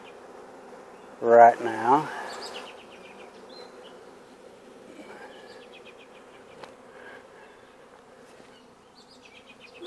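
A honeybee swarm hums as a faint, steady buzz beneath a brief burst of close talking, with occasional small knocks and shuffling sounds from someone handling the bees.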